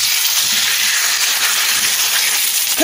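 Chicken breast frying on a dry Teflon pan, a steady soft sizzle and hiss close up with no talking.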